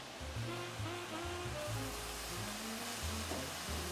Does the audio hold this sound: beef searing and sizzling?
yes